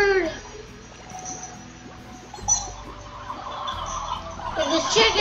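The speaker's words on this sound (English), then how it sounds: "And this chicken, because he's not supposed to be up there." Gobbling, clucking fowl calls from a chicken in the game Slime Rancher, several short squawks and clucks scattered over a steady background of game music and ambience, fairly close and moderately loud.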